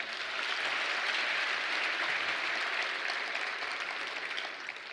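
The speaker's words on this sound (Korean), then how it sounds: "다시 한번 격려의 박수 부탁드리겠습니다" Sustained applause from a sizable crowd at a church pastors' seminar, dense and even, clapping steadily for several seconds before easing slightly at the end.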